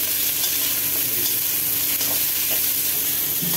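Bitter gourd curry vegetables, green beans and drumstick stalks, fry loudly in hot oil in a pan, with a steady broadband sizzle and a few soft scraping stirs throughout.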